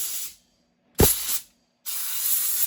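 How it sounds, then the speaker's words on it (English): Three sharp bursts of compressed air hiss into the small bolt holes of a Husqvarna 395 chainsaw nut during a rebuild, with silent gaps between the loud, close blasts. "I'm just going to take and blow the holes out of the nut"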